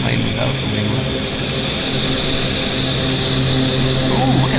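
An airliner fitted with winglets takes off at Vancouver airport, its engines roaring as a loud, steady broadband drone, with a person talking over the noise.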